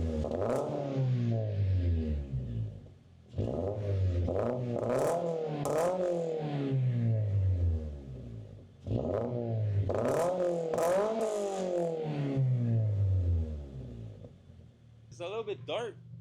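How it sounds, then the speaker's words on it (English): A Toyota GR86 fitted with a single exit catback exhaust revs hard four times in a row, each pull rising sharply and falling back to idle, close and loud. "let's give it some rev"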